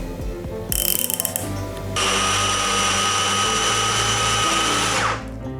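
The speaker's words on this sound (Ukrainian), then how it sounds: "Куряче філе добре перебилося в блендері." A blender motor mincing chicken fillet whirs in a short burst, then runs loud and steady for a few seconds with a grinding, churning roar before cutting off.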